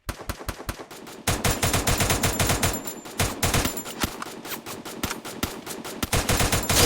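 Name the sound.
gunfire in Free Fire video game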